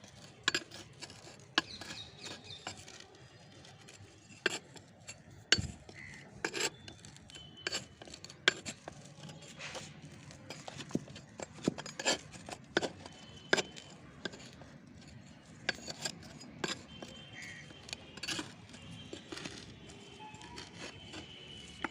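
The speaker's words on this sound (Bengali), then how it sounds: "মাটিটাকে আমি এরম করে খুঁচিয়ে নেব প্রথমে সারটা দেওয়ার আগে" Dry potting soil in a hibiscus flower pot is loosened and poked with a tool, giving close, irregular scraping, rasping and scratchy taps that keep on steadily at low volume.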